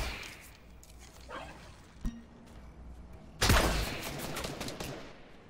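Gunfire in a Fortnite match: scattered shots echo at a distance, then one sharp crack and a louder, close blast ring out, trailing off into ambient game noise.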